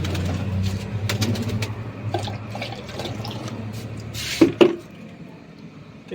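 Water trickles and splashes into a pigeons' water bowl with a low gurgling fill, followed by a couple of sharp knocks; pigeons murmur faintly nearby.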